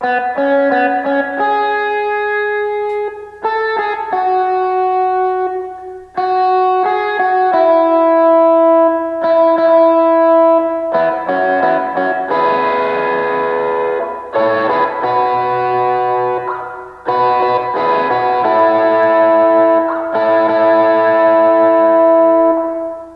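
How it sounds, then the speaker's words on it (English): Electric guitar with heavy effects plays a melodic line, chords sustaining with echo and distortion, loud and continuous with brief gaps between phrases. "There's this other section for an electronic guitar."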